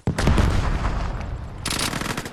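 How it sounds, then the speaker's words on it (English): A grenade blast and rapid gunfire in a video game burst in loudly and fill the whole moment, a sustained roar of shots with a second burst near the end. "He threw another grenade!"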